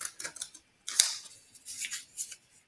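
Scissors cut out a paper note card, giving close, crisp snips in short irregular bursts with a sharp click partway through and brief pauses between cuts.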